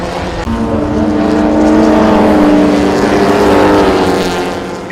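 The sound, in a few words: 1960s race cars racing at Warwick Farm, Ford Zephyr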